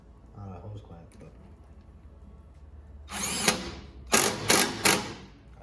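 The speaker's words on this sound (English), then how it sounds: "I don't suggest using an impact bit driver on a hose clamp" An impact bit driver tightens a hose clamp on homemade twin-turbo charge tubes: first a single harsh mechanical burst, then three quick rattling hammering bursts up close after a quiet stretch.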